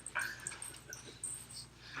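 A puppy whines and whimpers in faint, brief yelps at a distance, its soft cries set against a low steady hum and some background noise in the room.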